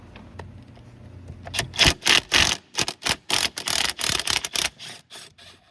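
A ratchet works steering shaft bolts loose on a 2006 Lincoln Mark LT truck, giving a close, rapid series of sharp clicking bursts in uneven rhythm, loud and alone without talk.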